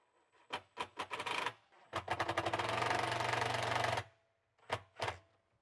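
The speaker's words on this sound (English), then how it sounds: "And then we're gonna screw that in." A screw driven into a wooden vanity drawer with a power drill: several short whirring bursts, then one long steady run of about two seconds, and two more brief bursts after a pause. Close and fairly loud, with no talk.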